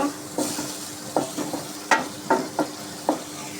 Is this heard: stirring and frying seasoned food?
yes